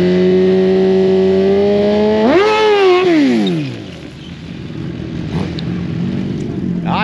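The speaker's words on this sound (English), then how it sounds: "got Brian Gillespie here, right-hand lane on the CBR 1000RR" Honda CBR 1000RR and Suzuki Gixxer 1000 sportbikes sit at a drag race in Alabama. A loud, steady engine drone climbs sharply in a rev, then sweeps back down to a rumbling idle, close and dominant.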